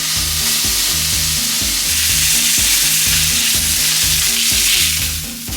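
Angus beef steak searing with garlic in a hot pan, a loud, steady sizzle that carries on without a break over background music.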